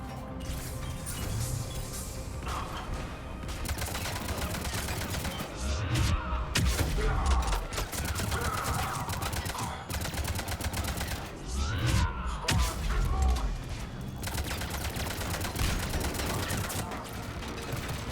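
Turret gunfire rattles in dense, rapid bursts during a Mass Effect 3 firefight, loud and near, with crashing impacts mixed in and brief lulls between volleys.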